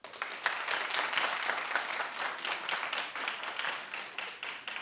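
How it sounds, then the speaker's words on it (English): A studio audience at a talk show bursting into sustained applause, dense many-handed clapping that starts abruptly, holds steady and tapers slightly near the end. "Clap if you think there's nothing wrong at all with any of this."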